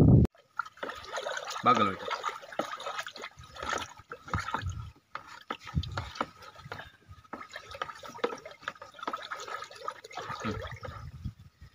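Pest oil is stirred into an organic spray liquid for sweet orange trees, with splashing, trickling and dripping water between spells of nearby speech.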